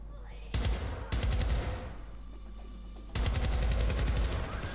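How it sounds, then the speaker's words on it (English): Gunfire from a weapon in the 2012 shooter Syndicate: close, loud rapid bursts that start and stop in three stretches with a brief quieter gap, dense crackling shots over a low rumble. "Okay, this gun sounds badass."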